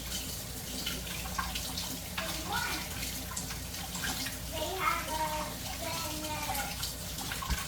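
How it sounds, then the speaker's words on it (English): Sourdough feeder jars being rinsed under a running kitchen tap, with a steady close splash of water and clinking glass, and a few brief voices in the background. "I am going to grab my feeders over here and I'm going to rinse them off."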